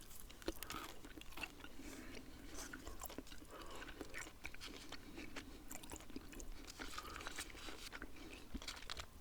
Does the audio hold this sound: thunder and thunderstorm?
no